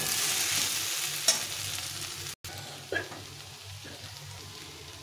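Raikhor fish frying in a pan for chorchori as green chillies and water are added: continuous close sizzling with a few sharp stirring scrapes and clinks, and a brief burst as something drops in.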